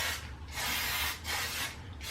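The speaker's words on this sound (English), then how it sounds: "Neutrogena Ultra Sheer Body Mist Sunscreen Spray" Three long hissing bursts of Neutrogena Ultra Sheer Body Mist sunscreen spray from an aerosol can, close and fairly loud, separated by short pauses.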